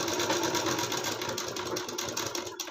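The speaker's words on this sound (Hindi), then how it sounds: "पूरे में हम इसी तरीके से पहले सिलाई लगाएंगे।" A sewing machine runs steadily while stitching a seam on an embroidered blouse, a continuous close whirring hum that carries on without pause for the whole stretch.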